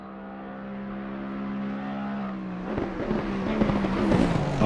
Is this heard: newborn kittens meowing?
no